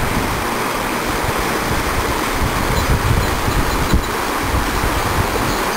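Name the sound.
Deschutes River flowing in Central Oregon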